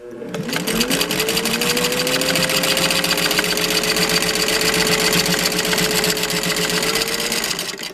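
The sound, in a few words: Singer 15-91 sewing machine sewing through heavy canvas layers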